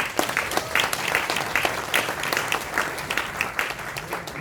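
An audience at an academic seminar and photo exhibition in a hall gives a journalist a big round of applause: continuous, moderately distant clapping with many overlapping hands, steady in level from start to finish.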